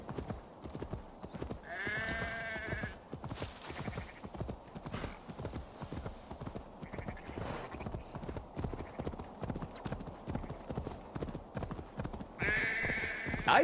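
Horse hooves in Assassin's Creed Valhalla: a quiet, steady clip-clop of a ridden horse at a regular gait, with a whinny or snort rising briefly near the start and again at the end.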